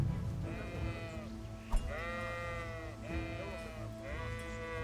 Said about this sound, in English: Alright, meet the sheep.